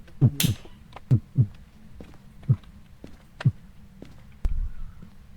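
A person imitates a heartbeat with their voice, making a series of close, low thumping pulses, some paired, in a loose, uneven rhythm.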